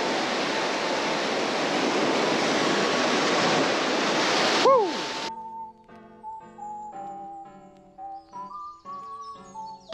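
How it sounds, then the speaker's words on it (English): Heavy rain and crashing waves beat against a coastal pier in strong wind, a loud dense roar filling the first half before cutting off abruptly, leaving quieter chirping bird calls. "It is raining so hard right now. It's also super windy, so the rain is going sideways."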